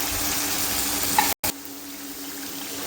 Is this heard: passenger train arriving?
no